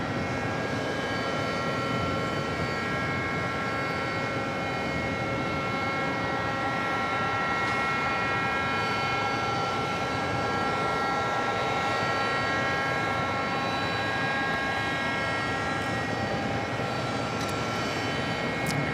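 A Delta Boeing 767-300ER taxis across runway 4 left at JFK, giving a steady moderate engine drone with a faint high whine, heard from a distance without talk.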